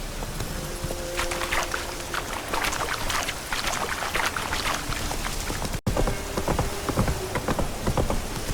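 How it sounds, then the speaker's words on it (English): Steady rain patters across surfaces in a wooded area in The Witcher 3, a dense, continuous hiss of drops with scattered louder splashes, close and even throughout. "Looks like rain."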